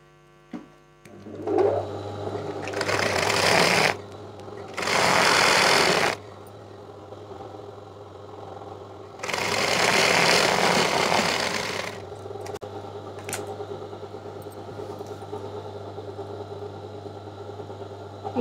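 A sewing machine stitches the side hem of a Punjabi dress top in three loud bursts of rapid whirring, separated by pauses where a low mains hum continues alone.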